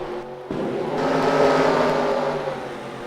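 Engine drone of a field of stock cars rolling off at Rockingham in a Busch Grand National racing video game, a steady loud hum that swells after a short start and holds.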